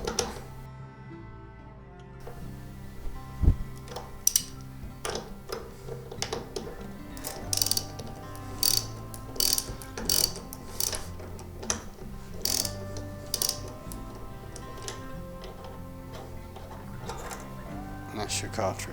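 A socket set ratchet clicks in irregular bursts while unscrewing the cap on a thermostat diverter cartridge, producing close, sharp metallic ticks against a quiet room background.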